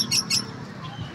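Pet African lovebirds and green-cheeked conures flying free give two short, sharp squawks near the start, then fainter chirps over low background noise.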